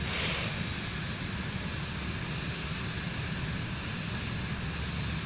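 Broad, steady airplane engine roar during a takeoff roll on runway 18 right in Microsoft Flight Simulator, loud and continuous with no talking.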